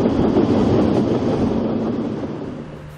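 A narrow-gauge Rasender Roland steam train on Rügen, locomotive 52 MH, rolls in from Göhren with a loud, rumbling wheel roar that gradually fades as it passes.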